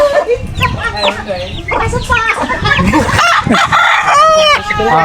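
Rooster crowing loudly nearby, several drawn-out calls one after another amid clucking fowl, with people talking over them.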